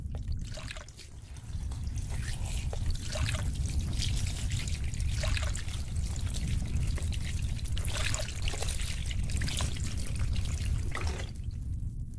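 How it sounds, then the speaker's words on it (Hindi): Kerosene is poured and splashed over a body and around a house, a steady close trickle and gurgle of liquid that runs unbroken with no talking. "वो उस डायन के शरीर पे और पूरे घर में किरासन तेल छिड़क देता है"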